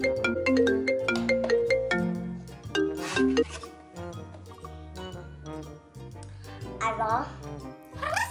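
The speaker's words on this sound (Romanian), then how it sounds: "Sună telefonul." A telephone plays a loud, close, bright melodic ringtone in a repeating tune of chiming notes, with a voice in the background.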